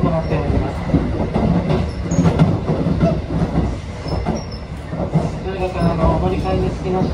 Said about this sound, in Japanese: 特急サンダーバード15号、今大津を通過します。